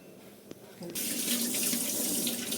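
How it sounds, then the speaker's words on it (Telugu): Water runs from a kitchen tap onto utensils being washed. A faint clink comes first, then the steady splashing flow starts and continues up close, with no talking. "కొద్దిగా వాటర్ వేసి కడిగాను"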